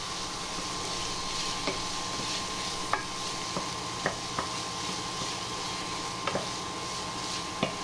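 Minced beef and onion filling with crisp bacon being stirred while it fries in a pan, a steady low sizzle with occasional scrapes and clicks of a spoon against the pan.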